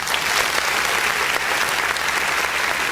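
Studio applause for reggae radio guest G. Cole, dense, continuous clapping from a group, loud and close with no voices over it.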